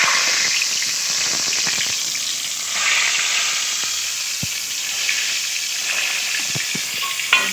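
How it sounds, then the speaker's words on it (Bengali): Medium-sized potatoes cut in half and frying in oil previously used for fried onions, for chicken biryani. A close, steady sizzle runs throughout, with occasional sharp pops and spatters. "আমি এই বেরেস্তা ভাজার তেলে আমি দেখুন মাঝারি সাইজের আলু হাফ করে কেটে নিয়েছি, ভেজে নেব"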